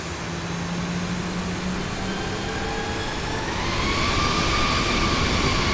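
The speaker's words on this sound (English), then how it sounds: "I love the sound of these CFM 56 engines." CFM56 jet engines of a Boeing 737-800 taxiing in the X-Plane 12 flight simulator: a steady, loud whine and roar with tones that slowly rise as thrust builds toward the end, no voices over it.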